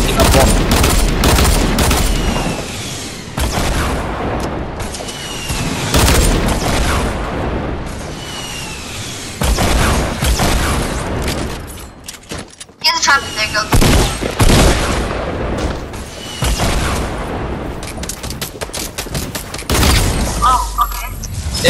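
Rocket launcher blasts and heavy gunfire in a video game, with dense continuous bursts, booming explosions and rapid shots, loud and close throughout, while players shout over the chaos.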